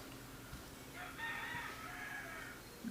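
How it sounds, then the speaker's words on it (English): A rooster crows once at a moderate distance, a drawn-out call rising over a quiet rural background with a faint low rumble and no talking. "And there goes the rooster."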